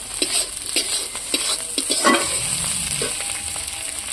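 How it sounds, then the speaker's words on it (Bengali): Ginger-garlic paste with chopped green chilli fries in a pan, giving a continuous crackling sizzle. A spatula scrapes and stirs in short, repeated strokes. "অল্প একটুখানি আদা রসুন বাটা দিয়ে দিচ্ছি,"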